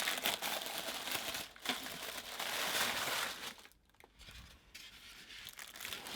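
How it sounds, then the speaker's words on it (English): A blade cuts through packing tape on the cardboard box of a Star Wars Black Series Razor Crest toy, giving a close crinkling, tearing rustle that dips in the middle and then resumes more softly. "Cut that tape right there."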